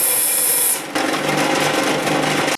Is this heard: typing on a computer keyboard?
no